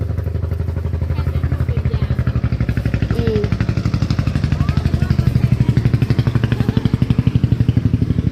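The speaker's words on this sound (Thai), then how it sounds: "นี่เสียงรถนะ" A motor runs steadily and loudly close by with a fast rhythmic chug, holding an even pace throughout with no speech over it.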